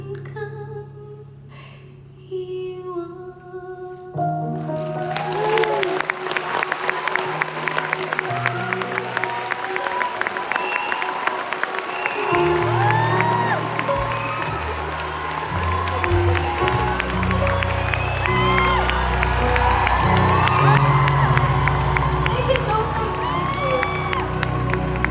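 At a live show, an audience breaks into loud, sustained applause with cheering and whoops after a brief quieter opening, building and staying dense for the rest of the clip.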